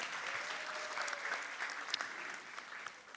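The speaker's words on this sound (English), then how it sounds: "give a resound round of applause to all the esteemed speakers" Audience applause following a talks and discussion session on Jakarta public transportation, steady and fairly distant, sustained clapping across the whole moment without speech.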